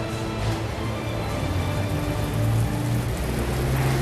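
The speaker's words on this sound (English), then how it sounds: "Now we're testing the enormous rain system." Heavy artificial rain pours from a huge film-set rain system over a ship set on gimbals, a steady dense hiss with low rumbling undertone throughout, no voices.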